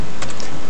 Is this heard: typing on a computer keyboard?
yes